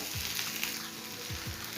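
Vegetables sizzle steadily in a hot pan while making chela fish curry, a constant close frying hiss broken by a few soft stirring knocks, with no talking.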